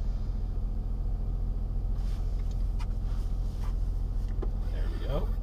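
A 2016 Land Rover Range Rover TDV6 diesel idles on a frosty day in Detroit, heard from inside the cabin as a steady, low, even rumble that holds throughout with faint light clicks over it.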